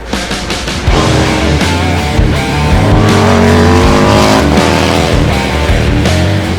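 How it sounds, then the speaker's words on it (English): The factory Harley-Davidson racing motorcycle, number 33, roars around the Laguna Seca track, a loud sustained engine note rising and shifting without a break, close by. "Going up to Kyle Wyman, the number 33, the factory Harley-Davidson racing team."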